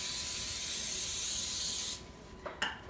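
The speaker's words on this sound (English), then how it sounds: "get an old one and spray it down with some cooking spray" Cooking spray hisses from a can onto an old rimmed baking sheet in one steady close spray lasting about two seconds, followed by a couple of soft handling knocks.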